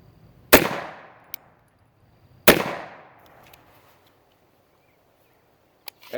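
Two loud, sharp gunshots about two seconds apart, each with a decaying echo, from Stinger ammunition fired at 1-inch pine boards at range; a faint click follows near the end.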